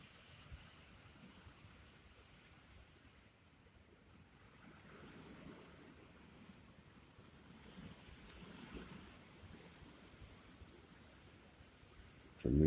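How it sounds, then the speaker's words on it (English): Steady wind roars and rushes through the trees in the Smoky Mountains at night, a constant outdoor whoosh with gentle surges and no voices. "I don't know if y'all can hear that wind."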